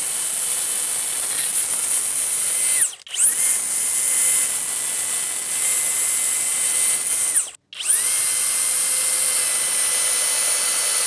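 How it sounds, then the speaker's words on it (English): A Flex power tool runs loud and steady in turbo mode with a high-pitched whine, cutting out briefly twice before spinning back up. "You can hit turbo if you want to. It's going to give you way more torque."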